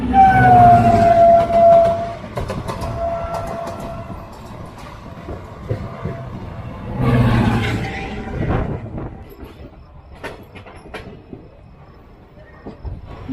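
Night train pulling out of Hosapete junction: a long horn-like tone at the start, then rumbling, clanking wagon noises and scattered knocks, moderately loud and fading, with no talk.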